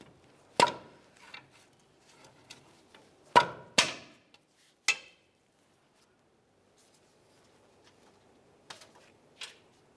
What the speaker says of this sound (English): we'll give it a loving bonk with a rubber mallet to break it free